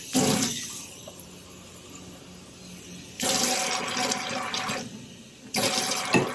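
Water runs from a tap into a measuring cup for cake batter, a steady hiss that swells and drops in separate bursts as the flow is turned on and off, heard alone with no talk.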